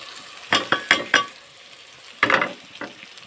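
Ivy gourd (tendli) dropped into a hot pan with turmeric, giving a run of close, sharp sizzling bursts and spatula clinks, then a quieter crackling fry between them.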